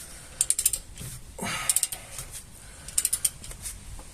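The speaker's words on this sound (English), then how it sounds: "we just crank away on that for a bit until it feels tight" A hand ratchet cranks the pinion nut on a Ford Transit Mk8 rear axle in short bursts of rapid clicking, three close groups of ticks separated by a brief scraping shift.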